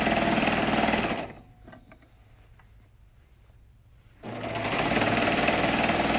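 Serger sewing a ruffle quilt: a loud, close, steady mechanical whir that stops for about three seconds of near silence with faint clicks, then starts up again and runs on.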